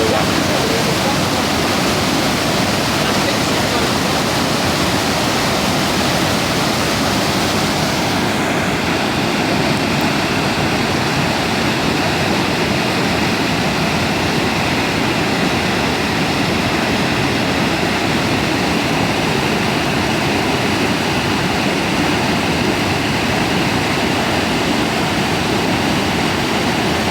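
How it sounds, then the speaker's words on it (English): A rain-swollen river at Otley pours over a weir after heavy rainfall, a loud, continuous broadband roar of rushing floodwater heard close up without pause. "So do we think that's a tree or a gap in the weir causing that water to do that?"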